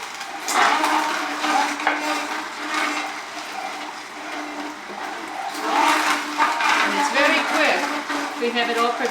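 A juicer grinds fresh beets with a piece of lemon in a steady, loud whirring roar that swells and eases as produce is fed in, with a voice speaking over it.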